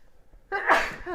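A single loud, close sneeze bursts out after a moment of quiet, with a short breathy tail at the end.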